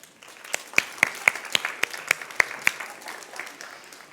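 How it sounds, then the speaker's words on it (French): Audience clapping after a demonstration of Honda's ASIMO humanoid robot, a smaller crowd with sharp individual claps standing out in an uneven rhythm over a soft bed of applause, fairly close and lasting about four seconds. "Je crois que nous pouvons l'applaudir."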